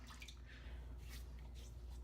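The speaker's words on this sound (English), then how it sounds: "A little water on the face." Water splashing and dripping onto a face during a wet shave, soft wet splashes and trickles repeating over a low steady background hum.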